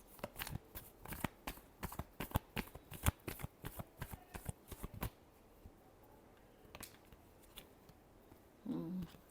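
Tarot cards shuffled by hand in a quick burst of crisp riffling flicks for several seconds, then a pause with a few soft taps and a brief rustle at the end, close and quiet.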